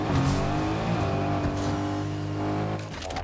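Car engine revving loudly in Fortnite, a steady droning motor with rising and falling pitch and some tire noise, filling the whole clip with no talk over it.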